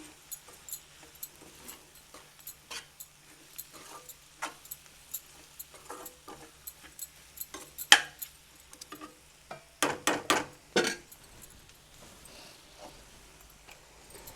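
Soft scraping and tapping of a spoon stirring egg and spring onion curry in a frying pan, with a few louder clinks near the end and a faint background hum.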